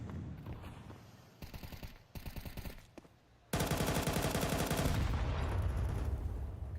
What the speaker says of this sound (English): Good nade deep into the apartments.